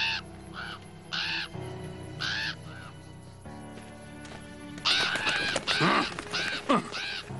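Crows cawing over a sheep flock in a farm video game, repeated harsh caws in short bursts, some separate and some overlapping, growing busier and louder near the end, with game sounds beneath.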